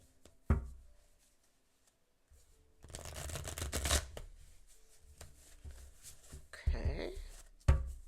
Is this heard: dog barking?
no